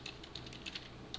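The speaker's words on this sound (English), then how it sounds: "you can hear me probably typing" Quiet keyboard typing in a home setting, a few soft irregular clicks and short bursts of keystrokes over a steady low background hum, no talking.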